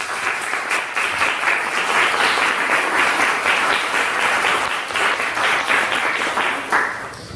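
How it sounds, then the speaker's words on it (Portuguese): Steady, dense applause from an audience at a Portuguese-language talk on scientific truth in heinous crimes fills the whole stretch, loud and sustained with no pauses. "eu pediria já uma salva de palmas à equipe do Biotech Justo"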